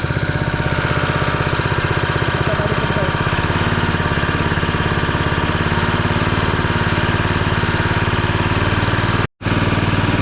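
Small engine driving a farm water pump, running steadily after a carburetor repair, with a constant throbbing putter and dense rhythmic pulses up close, briefly cutting out for an instant near the end before resuming.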